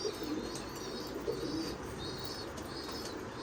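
Jeera Dabba pigeons coo in low, soft bursts in a breeding loft, with faint wing flutters and a few high chirps over steady background hiss.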